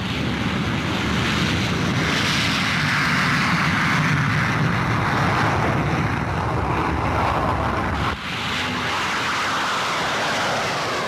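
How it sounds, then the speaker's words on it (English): A Gloster Javelin delta-wing jet fighter in the game War Thunder roars loudly and steadily throughout, a broad whooshing drone with a brief dip near the end. "Visitors are struck with the aircraft's unusual sound."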